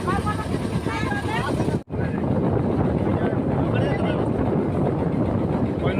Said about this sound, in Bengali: বোটটাও চলছে